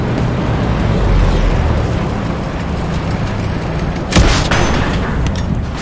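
Dense gunfire and explosions fill a World War II battle in the shooter Hell Let Loose, a continuous loud rumble of shots and blasts with one sharper nearby crack partway through.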